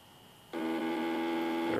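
After a quiet moment, a FarmBot Z-axis stepper motor starts up in reverse with a sudden, steady, buzzing whine that holds at an even level, close and with no voices.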